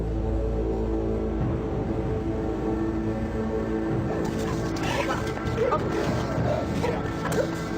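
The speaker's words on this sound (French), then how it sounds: "Des chiens de détection arrivent à Aylesbury pour y rechercher de la drogue ou des objets de contrebande." Detection dogs search Aylesbury prison for drugs and contraband. Under a steady mechanical hum, a few sharp barks and yips break out near the middle and end, moderately close.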